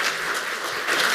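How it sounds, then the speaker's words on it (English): Brief burst of audience applause at a security conference talk on cryptographic primitives, a dense even wash of clapping with no voices over it. "Give him a big round of applause"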